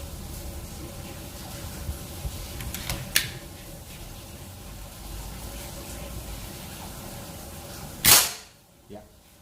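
A Predator Monel Biggame 4000 PSI PCP air rifle with a sidelever and magazine fires one sharp, loud shot near the end, followed by a short echo, after a stretch of quiet outdoor background.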